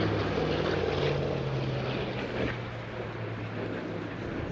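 Hawker Fury FB.11 warbird powered by an 18-cylinder supercharged Bristol Centaurus radial engine, passing at an airshow in Eastbourne, with a steady, loud, rumbling propeller drone that holds throughout and eases slightly toward the end.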